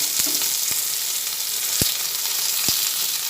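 Onion, garlic and chopped tomato frying together in a pan for mashed eggplant, a bright steady sizzle punctuated by three or four soft knocks of a stirring spoon, close and fairly loud, no voices.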